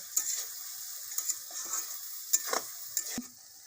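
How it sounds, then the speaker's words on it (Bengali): Sliced onions frying in white oil in a kadai for birista, meant for chicken biryani, give a steady soft sizzle broken by a few sharp scrapes and clinks of stirring, close up with no talking. "পেঁয়াজটা নেড়ে নিয়েছি এবার সাদা তেল নিয়েছি দিয়ে দেবো বেরেস্তাটা করে নেব"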